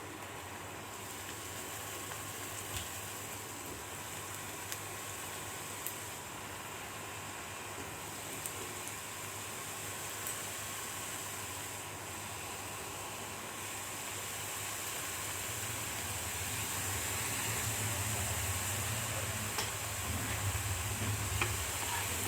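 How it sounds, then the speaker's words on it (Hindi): Besan chakki pieces deep frying in a kadhai of hot oil, a steady broad sizzle and hiss that swells louder in the final seconds, close and continuous with no talking. "अब इसको हमको डीप फ्राई करना है।"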